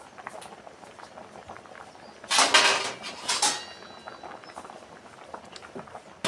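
A lid goes onto a cooking pot of greens, a short loud clattering of metal that lasts about a second and is followed by a second knock, over a quiet kitchen background.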